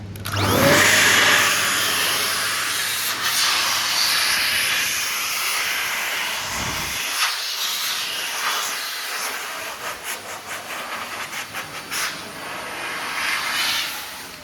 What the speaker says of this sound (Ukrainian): А тепер досушуємо всі оці місця турбосушкою.